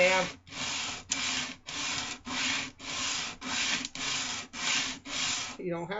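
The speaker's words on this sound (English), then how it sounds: "This sanding board will make that curve with no problems." Rhythmic sanding of wooden knife scales on a sanding board, about ten even back-and-forth rasping strokes in a steady cadence, close by.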